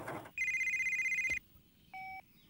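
A telephone rings in a cartoon scene with an electronic trilling tone held for about a second, followed after a pause by a shorter second ring, clear and close with no talking over it.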